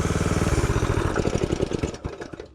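A small OryxEarth BRM200-2 mini bike engine sputters at a rhythmic idle, then chugs unevenly and dies away over the last second into near quiet.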